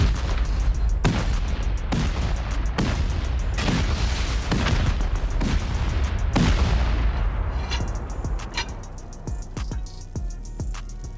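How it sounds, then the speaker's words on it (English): Rapid bursts of booming gunfire and explosions from a game, dense and loud, thinning out into scattered shots toward the end. "I hear more turrets in the core of the cave."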